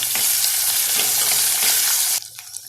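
Shallots and garlic frying in oil in a clay pot, a loud, steady sizzle with stirring strokes that drops abruptly to a quieter crackle near the end.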